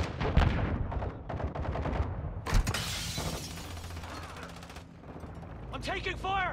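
Rapid bursts of automatic gunfire and sharp shattering impacts fill a Call of Duty: Modern Warfare II Invasion match, loud and dense with explosive cracks, mixed with game voice callouts and a rising electronic whine near the end.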